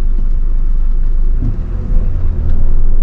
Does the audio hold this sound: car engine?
yes